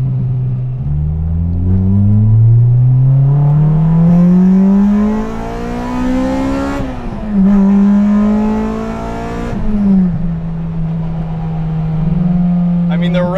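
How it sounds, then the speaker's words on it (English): A Honda Integra Type R engine revs and climbs in pitch, a loud sustained roar with rising harmonics, easing off and rising again near the end. "the resonance from the engine is ridiculous"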